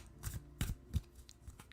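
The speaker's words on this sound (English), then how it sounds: "I shuffle in between every question, and then I pick cards at random" Tarot cards being shuffled by hand at close range, a few quick papery riffles and soft slaps spaced irregularly, with no talking.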